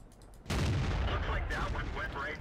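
A tank's main gun fires in World of Tanks with a single loud, booming blast that rings on, with a voice faintly present underneath.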